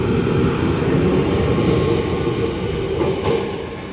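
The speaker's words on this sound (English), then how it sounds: "There's a very, very old tram just here." A very old tram rolls past with a steady, dense rumble and rail noise that holds evenly for about four seconds, loud and close, easing slightly toward the end, with no talking.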